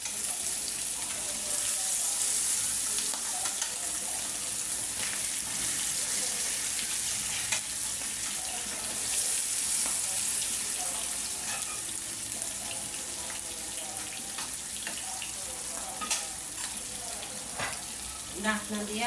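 Large pieces of magur catfish, head removed and marinated, fry with onion in a pan, giving a long, steady sizzle with scattered small pops and clicks throughout.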